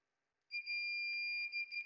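Steady electronic beep from a multimeter in continuity mode during work on an engine control module circuit board, sounding as a sustained tone of about a second and a half, clear and alone.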